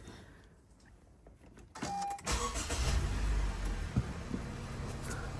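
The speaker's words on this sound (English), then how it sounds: "So car started, nice and smooth" A car engine cranks and fires up after an oil change, a sudden rise into a steady, smooth idle that holds to the end, with a brief whine just before it catches.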